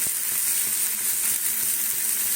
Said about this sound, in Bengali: দেখো আলুটাকে আমি এইভাবে একটু ভাজা ভাজা করে নিচ্ছি